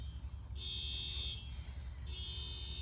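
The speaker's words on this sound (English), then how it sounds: "Neighbor's car alarm going off." A distant car alarm sounds in two steady high-pitched bursts over low background rumble, faint and far off.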